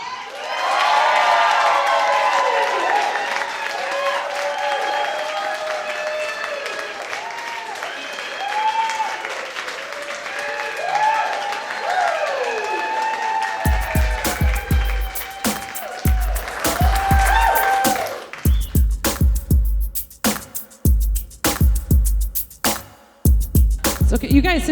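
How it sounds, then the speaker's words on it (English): A comedy club audience claps and cheers loudly, with whoops and shouts in a dense burst of applause that gradually thins into scattered, rhythmic claps toward the end. "now clap and cheer"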